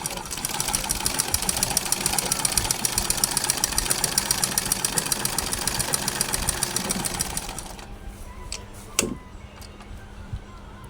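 A sewing machine stitches thin cloth with a fast, steady mechanical ticking and whir for about seven seconds, then stops, leaving a quieter room with a single sharp knock.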